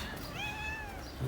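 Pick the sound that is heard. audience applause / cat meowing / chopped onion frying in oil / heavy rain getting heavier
cat meowing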